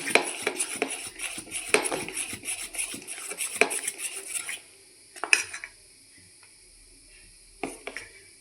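Dhokla batter is whisked in a bowl with a spoon, a busy run of quick metallic scraping and clinking that stops, followed by a few isolated knocks against the bowl, with no speech.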